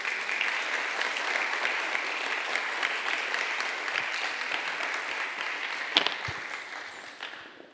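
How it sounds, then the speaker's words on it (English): Audience applause welcomes a panel onto the stage at a live climate justice event: several seconds of steady clapping from a crowd that fades out at the end. "a round of applause, please"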